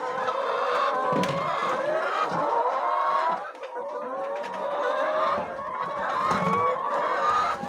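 Many chickens clucking and calling together on a poultry farm, a steady dense chorus of overlapping bird voices with no talk over it.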